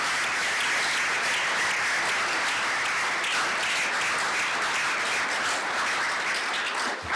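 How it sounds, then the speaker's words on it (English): Audience applause for a university baseball team at an athletics announcement event, a loud, steady wash of many hands clapping throughout. "How about a big round of applause"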